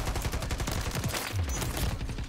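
Rapid gunfire from an SVA 545 rifle in Call of Duty MW3 rattles out as a fast, steady stream of shots amid game noise, loud and continuous across the moment.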